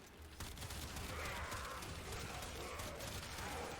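Rapid burst of weapon fire from the Kuva Drakgoon in the video game Warframe, a dense continuous crackling fusillade of ricocheting shots held steady for several seconds at a moderate level.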